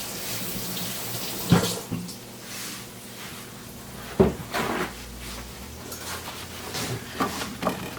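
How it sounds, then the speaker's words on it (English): Tap water running in a kitchen sink while a raw beef kidney is rinsed, a soft steady splash with a few sharp knocks and clatters from handling, no talking. "So first I'm going to just rinse it off a little."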